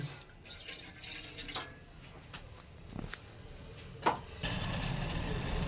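Water from a small mug is poured into a pot for tea, a soft, low splashing with a few faint knocks and drips in a quiet kitchen.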